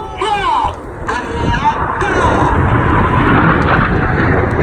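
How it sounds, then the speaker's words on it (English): Royal Air Force Red Arrows jets pulling to the vertical at an air show: a steady, loud roar of several aircraft building and holding, with a commentator talking over it at the start. "7 aircraft pulling to the vertical, about to make a beautiful palm tree."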